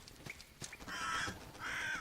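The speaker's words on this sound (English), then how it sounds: "Crows." Crows cawing in the video game Salt and Sanctuary, two long harsh caws one after another, fairly loud and clear over quiet background ambience with a few soft thumps before them.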